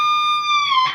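A pre-bent electric guitar note on a Les Paul, released for a pinch harmonic: one sustained, bright, harmonic-rich tone that bends and swells near the end, close and alone.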